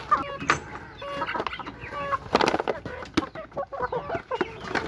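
White chickens cluck steadily around a pen at feeding time, with overlapping close and mid-distance calls and sharp squawks throughout, no talk.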